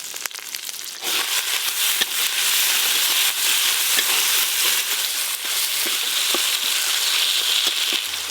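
Chopped tomato frying with a paste of poppy seed, melon seed and cashew, a sudden loud hiss as it hits the hot oil, then a continuous dense sizzle with occasional pops.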